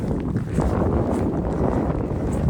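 Cold wind blows across a mountain trail meadow on the Appalachian Trail, buffeting the microphone with a steady, loud low roar and no clear talk.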